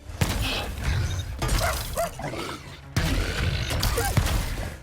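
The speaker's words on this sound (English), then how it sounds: "the dog-like drill burrows through the earth until it gets close enough to pounce on your enemies, complete with a barking sound effect" Cartoonish barking yaps from a dog-like burrowing drill weapon in the Ratchet & Clank game, repeated in loud, close bursts layered over mechanical whirring and creaking.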